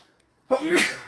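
After half a second of near silence, a single loud, close sneeze bursts out and trails off with a breathy finish.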